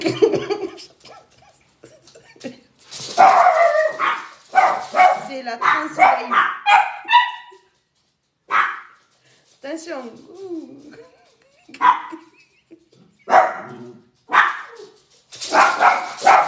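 Dogs bark in sharp, repeated bursts close by, some yips and whimpers among them, interrupted by a person talking.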